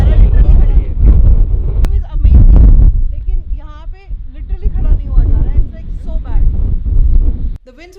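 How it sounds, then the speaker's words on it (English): Strong wind on a mountain top along the Skyline Trail in Nova Scotia buffets the microphone in loud, gusting rumbles, while a person talks over it. "The winds were that strong that it would have taken our gear with them"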